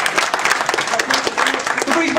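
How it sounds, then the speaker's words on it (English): Applause for a new mixed martial arts fighter at a pre-event press conference, a brief patter of clapping from a modest audience mixed with talk. "Give him a round of applause."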